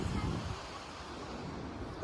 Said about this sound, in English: Listen to the sound of water.